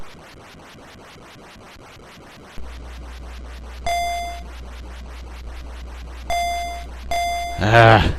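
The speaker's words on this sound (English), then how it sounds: "make the beeping stop already" An electronic alarm beep in a video game, Infiltrator on the NES, sounds in bursts over a steady low helicopter hum, repeating several times, with a rising clatter near the end.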